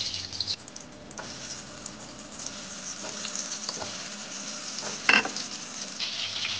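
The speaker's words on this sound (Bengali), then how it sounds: "মাটনের আলুটাকে আমি একদম তেলের মধ্যে লাল লাল করে ভেজে নেব" Potatoes for a mutton curry fry in hot oil in a kadai, a steady soft sizzle running throughout with a brief sharper crackle near the end.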